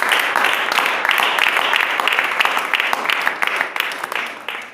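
Church audience clapping in response to a preacher, a loud, close burst of many hands with crisp individual claps, steady at first and gradually tapering off.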